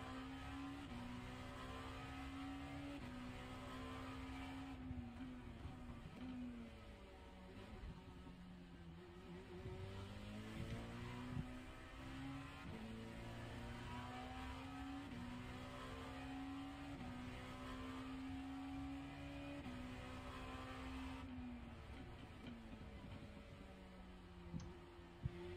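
A fast race car in the iRacing sim game, its engine droning continuously with shifting pitch as it closes in, steady and fairly loud with no speech.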